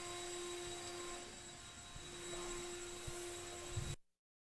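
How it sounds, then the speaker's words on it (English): Leaf blowers clearing dirt off an RC off-road race track at a championship, a steady broad whooshing roar with a constant motor whine at moderate distance, which cuts off abruptly near the end. "marshals, please grab your blowers"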